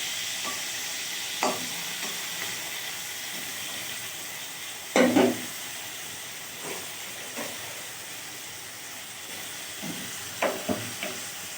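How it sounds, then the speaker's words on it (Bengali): Large prawns fry a few at a time in a pan, giving a steady soft hiss of oil broken by occasional louder sizzles and spatters as pieces are stirred or added. "এই চিংড়ি মাছগুলো আমি এখন একটু ভেজে নিই অল্প অল্প করে।"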